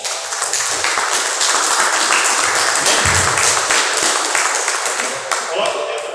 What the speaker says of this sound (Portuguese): dá uma linda salva de palmas para Deus